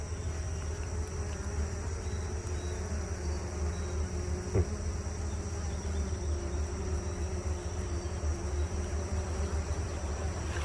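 A dense, steady hum of many honeybees buzzing together at a swarm trap nearby, continuous and droning, with a brief knock partway through.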